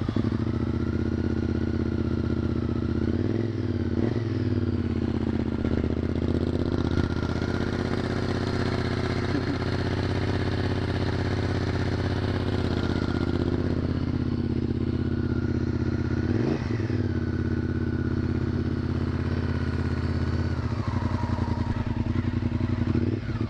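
A Honda SuperHawk motorcycle engine fired up with the choke pulled and left idling, a steady loud mid-range rumble with a few rev swells, close to the microphone.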